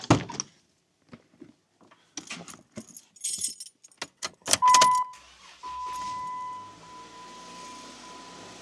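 A Jeep Wrangler with a battery that won't stay charged: keys jangle and clatter near the ignition, then the engine fires and settles into a steady running rumble beneath a constant high warning chime tone.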